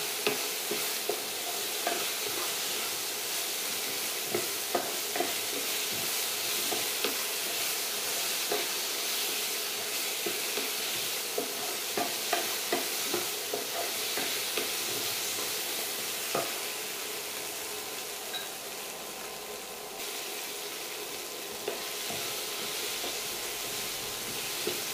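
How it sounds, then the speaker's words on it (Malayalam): Potatoes and carrots sautéing in butter in a pan, a continuous soft sizzle with scattered crackles and occasional stirring scrapes, close and steady without talk. "നമ്മുടെ പൊട്ടറ്റോയും ക്യാരറ്റും ഒക്കെ ഒന്ന് നല്ലതായിട്ടൊന്ന് ബട്ടറിൽ കിടന്നൊന്ന് വഴണ്ട് വന്നിട്ടുണ്ട്."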